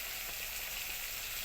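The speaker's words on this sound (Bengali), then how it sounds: "ওই তেলে আমি শুকনো লঙ্কা আর কালো জিরে দিয়ে দিলাম।" Dried red chillies and nigella seeds hit hot oil in a pan, giving a brief, steady, hissing sizzle that runs close and uninterrupted.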